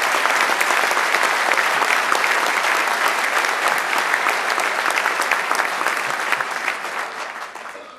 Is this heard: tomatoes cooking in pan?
no